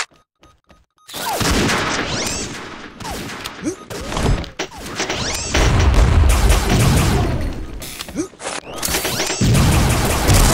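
Explosions and heavy gunfire in the Mission Against Terror shooter game, starting after a quiet second with sharp booms, then sustained loud rattling fire and blasts that cut off briefly near the end before resuming.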